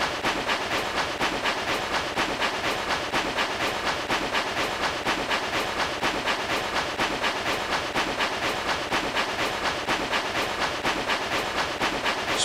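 A Spirit Train sound effect, the train rolling along steadily, with a continuous loud rumble, rhythmic clickety-clack and a hissing, steam-like wash throughout, alone with no talk.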